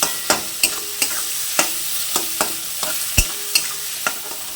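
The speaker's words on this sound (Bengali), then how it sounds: "পেঁয়াজগুলোকে আমি ভালো করে ভেজে নেব" Sliced onions with a little salt frying in a pan, a soft steady sizzle under repeated sharp scrapes and knocks of a spoon stirring, about ten strokes at a fairly even pace, close and clear.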